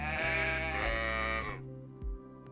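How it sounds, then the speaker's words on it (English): A sheep in the DayZ video game lets out one long, loud, wavering bleat close by, followed by a quieter short call against a steady low hum. "Sheep and rams will sound like this,"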